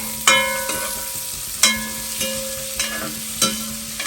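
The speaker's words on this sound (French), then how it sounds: "Comme ça, les oignons dedans. Là, ces oignons sués." Onions sweating in a hot pan for a shrimp dish give a steady, close sizzling hiss. Sharp metallic taps from stirring ring out roughly once a second. No one speaks.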